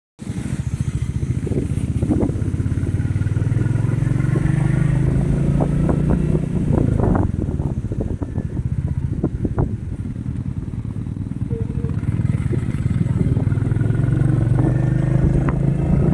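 Motorcycle and car engines idle and rev in a traffic jam on a mountain road in Uttarakhand; a loud, close, continuous rumble with occasional clatter fills the whole stretch.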